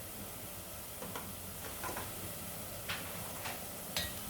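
Ginger, garlic, turmeric, coriander powder and red chilli powder fry in a pan, a steady close sizzle throughout with a few light scraping stirs, no voices.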